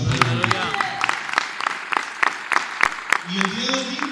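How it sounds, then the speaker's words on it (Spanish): A church congregation at an evangelical service in Monterrey claps in sharp, irregular bursts, with voices and shouts of praise mixed in throughout. "Un ofrenda de palmas al rey."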